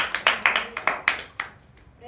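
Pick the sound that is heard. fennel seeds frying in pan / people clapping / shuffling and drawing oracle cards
people clapping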